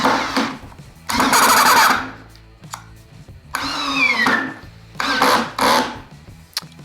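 A Ryobi 18V ONE+ compact drill bores a 3-inch hole, running in several loud bursts that stop and restart as the battery cuts out, with short gaps between.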